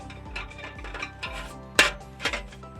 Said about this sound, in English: I can now drop these in to create